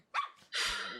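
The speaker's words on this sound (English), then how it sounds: "I heard the bark" A dog gives two quick barks close by, a short yelp followed by a fuller, longer bark, fairly loud against a quiet background.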